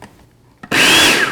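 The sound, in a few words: blender pulsing oats, almond flour and sugar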